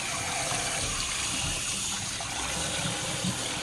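Steady running water washes blood from a gutted sea fish, a continuous close gushing stream with no pauses.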